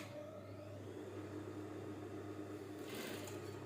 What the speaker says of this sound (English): this is where I'm sewing the pocket side, the inner pocket